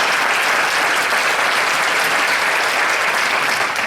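Thick, loud applause from a crowd at a school district address honoring administration and teachers, an even continuous roar of clapping with no pauses or voices.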